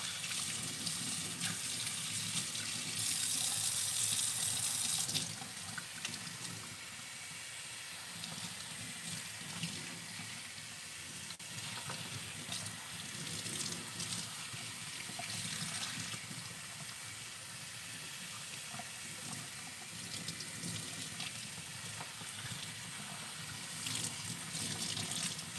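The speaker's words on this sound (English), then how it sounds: "I'm just really letting the water run down" Warm water runs steadily from a tap as hair is rinsed after detangling, a continuous close splashing wash that lasts throughout with no talk.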